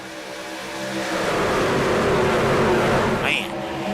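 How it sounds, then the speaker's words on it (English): DSR electric race trucks in a racing video game swell past on the Auto Club Speedway oval through turns 1 and 2, a loud rising whine and rush that builds and holds, ending with a brief high-pitched tone. "you just got to love that thundering sound of the DSR Electric Truck Series working their way through 1 and 2 here at Auto Club"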